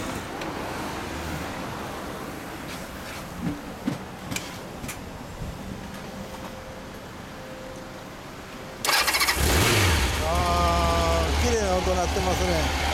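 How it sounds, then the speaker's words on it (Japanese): A 2004 Honda CB750 RC42 motorcycle with aftermarket exhaust starts after quiet ambience, then runs loudly close by with a rumbling idle and a few revs, while people talk nearby. "オッケー、エンジン音聞かせてもらえますか？"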